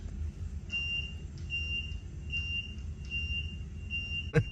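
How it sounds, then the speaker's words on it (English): A train carriage incident alarm sounds as a repeating series of high, steady electronic beeps in an even rhythm over a low rumbling train background, ending with a short sharp click. "should an incident be detected in your carriage, the following alarm will sound."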